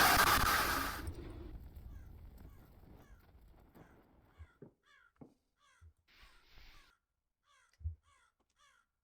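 A crow in the video game Rise of Insanity gives a series of scattered harsh caws, moderately close and spaced irregularly, following a brief loud rush of noise at the start against an otherwise quiet background.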